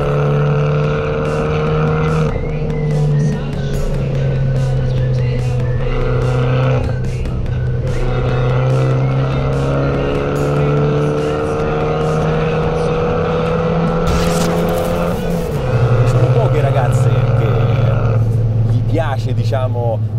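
An Abarth 595 with new suspension and brakes is driven hard, its engine a loud, sustained buzzing drone that rises and falls in pitch through gear changes, with a brief sharp burst near the end.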